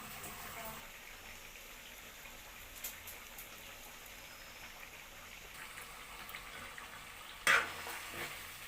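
Chicken fries in a pan of oil for a chicken curry, giving a faint, steady crackling sizzle with a sharper clatter near the end.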